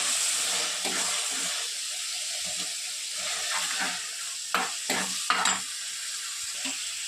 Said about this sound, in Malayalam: നമ്മൾ മൺചട്ടിയിൽ എണ്ണ ഒഴിച്ചിട്ടുണ്ട് എണ്ണ ചൂടായതിനു ശേഷം നമുക്ക് തക്കാളി ഇടാം സവാള ഇടാം